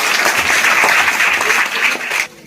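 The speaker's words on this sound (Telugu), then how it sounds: "ఒకసారి అందరూ చప్పట్లు కొట్టండి" An assembled school crowd at a bag and book distribution event claps together, loud, dense applause that holds steady, then cuts off abruptly near the end.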